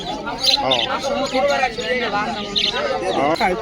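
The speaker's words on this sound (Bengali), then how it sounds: "পাখিটার নাম বাজিগড় মাশাআল্লাহ খুব সুন্দর পাখি" Dense, rapid chirping and warbling from two budgerigars fills the clip, close and continuous, with a voice talking over it.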